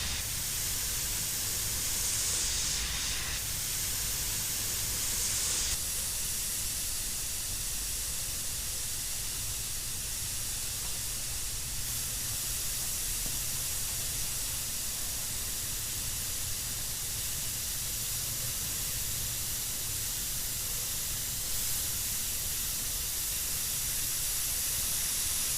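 An airbrush sprays paint onto a Killer Klown model, a continuous steady hiss running alone at close range with slight shifts in tone.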